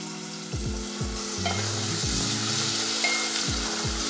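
Cubed potatoes frying with green chilies in hot oil, a continuous loud close sizzle with periodic stirring scrapes, with no talking.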